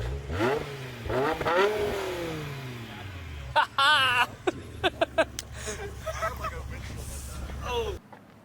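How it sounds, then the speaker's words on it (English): A 2008 BMW E60 M5 with a V10 engine revs hard several times in quick, rising sweeps near by, then settles to a rumbling idle while people talk and some clattering sounds over it. "Can you give it a rev, my guy?"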